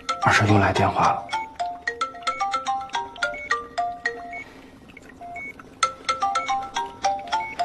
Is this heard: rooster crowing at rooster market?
no